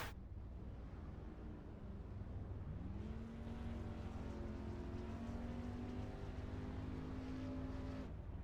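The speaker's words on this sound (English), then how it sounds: "I love the sound of these Camaros. They sound like a real engine." A steady engine drone rises in pitch and holds a sustained whine, a Camaro stock car engine under constant throttle in the iRacing game at Dover.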